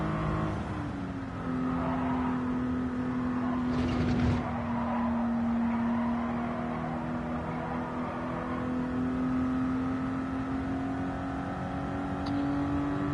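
A 1988 Toyota Supra 3.0GT Turbo A driven hard around a racing lap on worn tyres, its engine droning steadily with gear changes, and a brief tire squeal midway.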